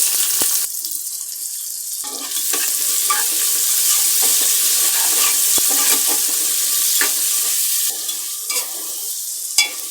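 Onion frying in oil with bay leaf, cinnamon, cardamom and cloves for a duck curry, with a loud close sizzle, scattered stirring scrapes and a brief sharp clatter at the end.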